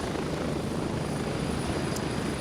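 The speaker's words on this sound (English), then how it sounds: "the helicopter being so loud in my ears" Helicopter in the video game Gray Zone Warfare, a loud, steady, close rotor and engine roar that fills the whole stretch without pause.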